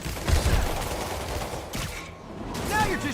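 Rapid gunfire bursts in Marvel's Spider-Man Remastered, loud and close, with game voices briefly over the shooting.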